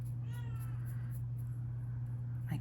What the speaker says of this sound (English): He's gonna be meowing a lot.